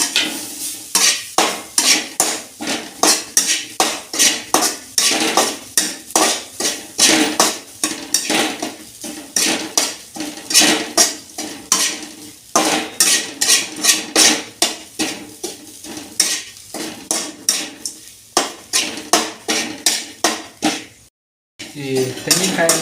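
Grated coconut, about a cup, roasting in a pan for jackfruit halwa, stirred steadily so a spoon scrapes and clatters against the metal in quick, close strokes, broken by a brief pause near the end.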